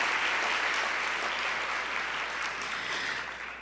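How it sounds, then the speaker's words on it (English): A conference audience gives a dense, sustained round of applause that fills the room evenly, then thins and fades toward the end. "Yes, give her a round of applause."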